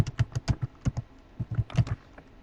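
Quick, irregular bursts of keystrokes on a computer keyboard while entering a nickname and email into an online form, close and clear with short pauses between clusters of taps.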